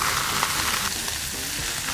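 Noodles sizzle steadily and loudly in a hot stir-fry pan as they are tossed with scrambled egg and stir-fry sauce.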